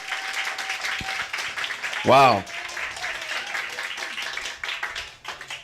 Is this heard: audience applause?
yes